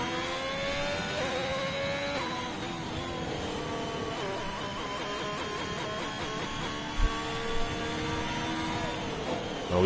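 Several racing car engines in an F1 sim racing game at Monza, leaving the pit, overlapping whines rising and falling continuously with a dense mechanical drone throughout.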